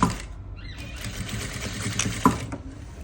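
Sewing machine running a seam around the edge of fabric for an abaya, a steady close whirring stitch with a small click near the end, heard alone without talk.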